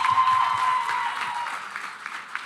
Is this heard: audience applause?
yes